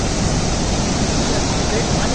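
The swollen Gaula river rushes past in flood, a loud, unbroken roar of churning water close by, broadband and constant like a waterfall.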